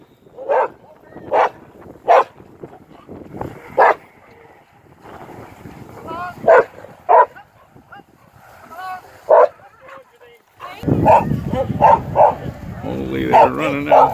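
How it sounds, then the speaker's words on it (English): A dog barks excitedly in several sharp bursts, close to the microphone, while people talk nearby; wind and rushing water noise swell near the end. "She can bark."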